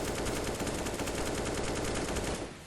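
AK rifle firing in the video game Counter-Strike: a continuous rapid burst of automatic gunfire lasting over two seconds, loud and dense, then tailing off abruptly.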